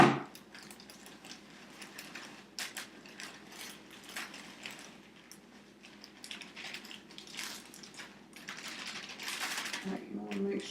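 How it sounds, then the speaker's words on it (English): Dry brownie mix pours from a package into a bowl as a long, continuous rustle and patter with rattling crinkles of packaging, growing denser toward the end. "I'm going to try not to make a mess and pour it into a bowl that you have here."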